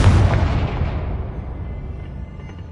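A loud Confringo blast from Hogwarts Legacy hits with a deep boom, then rumbles and gradually fades over a couple of seconds with no talking.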